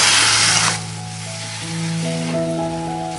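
Masala with tomato paste fries in oil over a medium-high flame for prawns butter masala, starting with a loud, bright sizzle that quickly settles into a softer, steady hiss alongside faint stirring.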